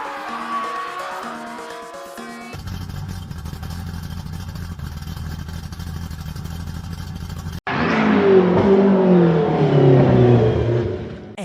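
Animated-style sound effect of a Honda car engine revving hard then accelerating, a sustained buzzing drone followed by a louder surging roar with rising pitch, no talking.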